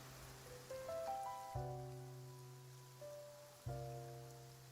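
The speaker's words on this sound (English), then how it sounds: "It's raining again." Steady rain hisses softly across a Genshin Impact game scene beneath gentle chiming musical notes that enter in stepped clusters, with no talking.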